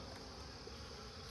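Honey bees hum in a steady, faint drone during an open hive inspection, a continuous buzzing swarm with no pauses and no voices.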